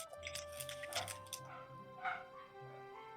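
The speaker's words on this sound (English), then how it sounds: "You hear off in the distance there are a bunch of hellhounds just yap, yap, yap, yap, yap." A pack of hellhounds barking and yapping in the distance during a fantasy tabletop game session, with faint repeated yips and a few louder barks over a low musical drone.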